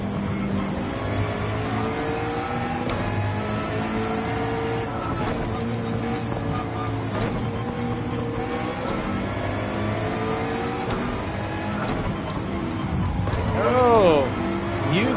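Race car engine held at full throttle during a Gran Turismo 7 race, a steady, loud, unbroken mechanical drone that swells slightly near the end.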